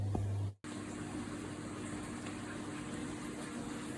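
After a brief low hum cuts out, a constant bubbling, gurgling pump and filter noise runs steadily, moderately quiet, with no talking.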